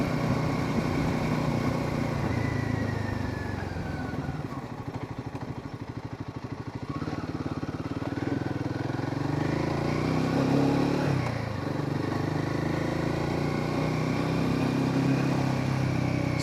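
Outdoors at night in Rishikesh, a motorcycle engine idles with a low, steady throb, rising briefly in a couple of revs before settling back, heard close and alone without any speech.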